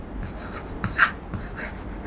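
Numbers are written on a board during a maths lesson, with short scratchy strokes in a few quick bursts and one firmer tap near the middle, close and moderately loud in a quiet room.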